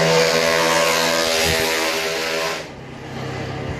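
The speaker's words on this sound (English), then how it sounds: "That was a very loud motorcycle." A loud motorcycle engine roars close by on a street in Ubud, Bali, with a strong droning whine, then fades off as it passes, leaving a quieter rumble.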